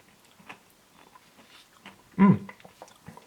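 Close chewing of Ben & Jerry's chocolatey ice cream with crunchy caramel chunks, soft mouth sounds building to one sharp loud crunch near the end.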